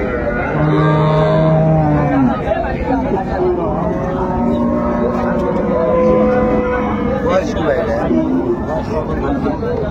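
Deep, sustained moos from cows at the Raniganj livestock haat in Dinajpur, with several long calls overlapping a dense hubbub of bargaining voices and crowd chatter close by.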